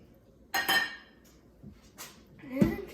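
A spoon stirs Krusteaz blueberry muffin batter in a bowl, giving a few scattered clinks and scrapes against the side, close and moderately loud, with no talking.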